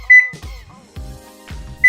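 A kitchen timer being set while pasta cooks gives two short, high electronic beeps, one at the start and one at the end, with soft clicks and handling knocks between them.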